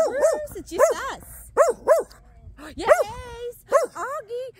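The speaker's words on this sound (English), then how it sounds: "Auggie, that's why he gets a bark." A mixed-breed dog barks loudly and close up in a series of sharp, rapid barks, with some higher yips and whimper-like tones mixed in, over about five seconds.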